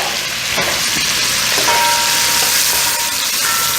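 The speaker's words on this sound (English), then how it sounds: "Okay, now I'm going to add my sofrito. We're going to let that cook off for," Sofrito fries loudly in a pot for a few seconds, a dense, steady sizzle with faint scraping of stirring, close up and without voices.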